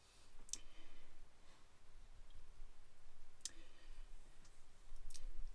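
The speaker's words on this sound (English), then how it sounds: "So we will double click on the icon" A computer mouse double-clicks on a desktop icon to start a software install, giving a couple of small, sharp clicks with a pause between them over a quiet room hum.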